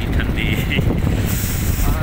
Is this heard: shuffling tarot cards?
no